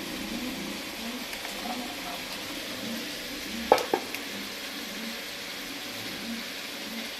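Brinjal, beans and cauliflower fry in a pan with a soft, steady sizzle at moderate distance, broken by a couple of brief utensil clinks midway.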